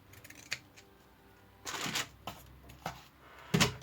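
Pinking shears cut along the edge of a fabric or paper piece for a stickpin booklet, giving a few crisp, close snipping crunches in separate bursts against a quiet room.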